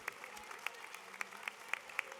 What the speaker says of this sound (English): A standing ovation is amazing.